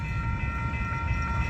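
A short Union Pacific train led by locomotive 2579 passes in St Paul, Minnesota, giving a loud steady rumble with faint rhythmic wheel clatter and a sustained tonal hum. No one talks.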